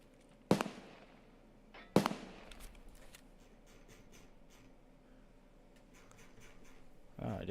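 A grenade explosion in the Escape from Tarkov video game, heard as sharp loud blasts near the start, followed by quieter ambient game noise and another burst near the end.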